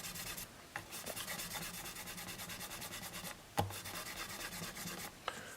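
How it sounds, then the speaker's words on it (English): Steady back-and-forth rubbing of sandpaper on hardened CA glue over a Martin guitar's finish, continuous strokes close up, with a couple of sharp taps along the way. "the problem with sanding CA glue is that it's harder than the surrounding finish"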